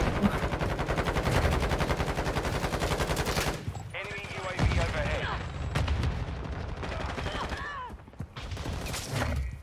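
Rapid bursts of video game gunfire, loud and dense, fill the first few seconds, then break into scattered shots and clatter with game noise as a voice talks over it.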